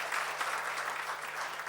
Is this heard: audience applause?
yes